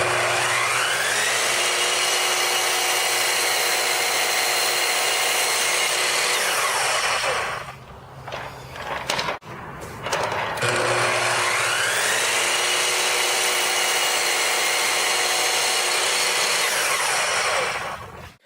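A power saw cutting a board at a miter angle for a workbench build, a loud sustained whine through two long cuts split by a brief pause with clunks, no one speaking.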